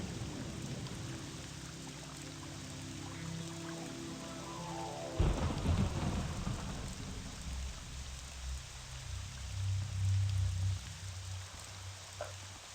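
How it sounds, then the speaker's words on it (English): Rain falling in Morrowind with a roll of thunder, steady hiss of rainfall over layered game music, then a sudden thunder crack midway followed by rumbling and continued rain. "The rain is nice."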